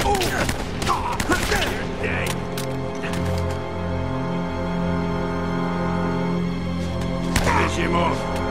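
Gunfire from the video game Uncharted: Drake's Fortune crackles in brief volleys at the start and again near the end, over a sustained musical score and shouting game voices.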